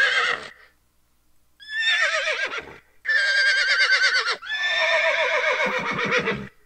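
Horse neighing sound file from GTA V: a short whinny, a pause, then three long, loud, close, shrill neighs in succession, the last trailing into snorting pulses.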